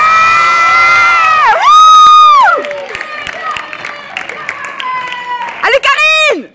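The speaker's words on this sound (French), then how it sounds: "S'il vous plaît, messieurs, dames, applaudissez Lilia, Eva, Morgane et Karine." An audience cheers with loud, high-pitched shouts and whoops for dancers at a K-pop talent contest, along with some clapping, in bursts that rise and fall.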